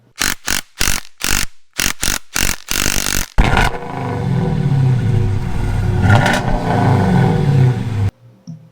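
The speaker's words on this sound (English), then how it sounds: "This engine is a 351 Windsor. It came out of a 89 Bronco." A non-roller 351 Windsor V8 taken from a 1989 Ford Bronco: a string of loud cranking bursts with gaps, then it catches and runs with a rough, loud, steady idle before cutting off abruptly.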